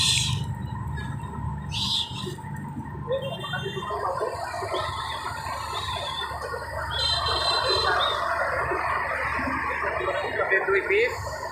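Pigeons outdoors call with scattered chirps and short tonal notes over a constant rushing background, while indistinct voices are also heard.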